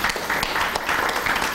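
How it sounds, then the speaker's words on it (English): An audience applauds cosmetology students, the clapping even and moderately loud for under two seconds, with a few sharper claps standing out. "So we need to give them a round of applause"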